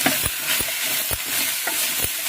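Okra fries in oil with a steady sizzle while a utensil scrapes and stirs the pan in regular strokes, close and loud with no voices.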